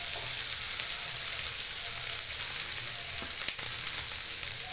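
Chopped garlic sizzles steadily in hot oil in a pan, a continuous close frying hiss with a few soft stirring scrapes, while banana flower with fenugreek is being cooked; no talking.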